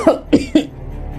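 A man gives three sharp, close coughs in quick succession, each one a short harsh burst, and then the sound falls quiet.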